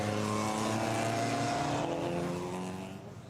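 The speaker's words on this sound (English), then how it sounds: "So the cars making their way down the third group now onto the Hatson back for the long run around this 25-kilometre circuit." Race cars roar along the 25-kilometre Nürburgring circuit during a 24-hour classic race, a loud sustained engine drone with gear-like harmonic sweeps as they pull away and fade slightly at the end.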